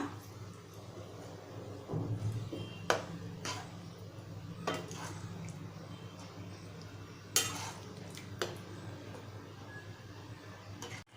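Quiet stirring of Malvani-style brinjal curry in a pan with scattered metallic clinks and scrapes of a spoon against the pot, a soft simmer underneath.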